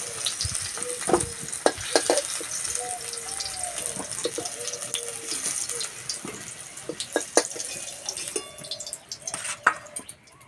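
Green plantain fries in oil in a pan, a close, steady crackling sizzle dotted with sharp pops and occasional stirring scrapes, with no talk over it.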